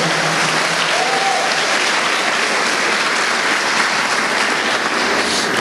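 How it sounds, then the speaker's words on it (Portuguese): Church congregation clapping loudly and steadily during an evening worship service, a thick continuous wash of applause with a brief faint raised voice near the start. "dê um aplauso ao Senhor e dê um brado de vitória"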